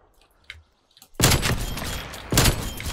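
Gunshots in a video game search-and-destroy match crash in loudly after a near-silent start with a few faint clicks, forming a dense sustained volley with a second heavy burst just before the end.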